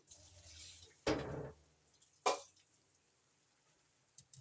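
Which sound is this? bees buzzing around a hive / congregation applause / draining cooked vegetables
draining cooked vegetables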